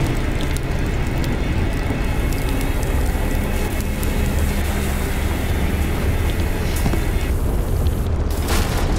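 Volcanic eruption in the game Far: Lone Sails, a loud continuous low rumble with deep booming and rattling that holds steady throughout, with a sharp burst near the end.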